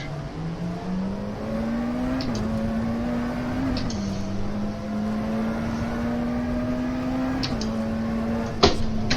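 Race cars in the rFactor 2 racing simulator, including McLaren and Lola machines, with a steady droning engine tone that rises and steps through gear changes, other cars faintly audible around it and a sharp click near the end.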